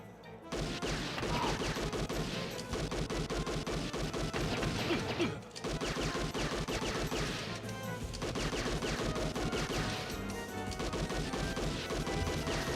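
Rapid gunfire in the video game Policenauts, a dense, continuous clatter of shots with crashing impacts that barely lets up, briefly pausing once before resuming at full intensity.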